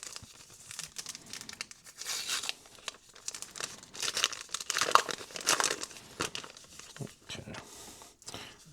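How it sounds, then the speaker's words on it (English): SmartDevil screen protector kit packaging is opened up close, with irregular crinkling and tearing of plastic and paper wrap in uneven bursts throughout. "let me go ahead and open up our little kit here"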